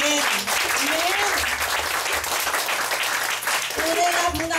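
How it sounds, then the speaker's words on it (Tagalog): Lively congregational applause at a Filipino church service, a loud dense wash of clapping that continues steadily throughout while a voice speaks briefly at the start and again near the end. "Kung buhay, dapat buhay din ang palakpak natin."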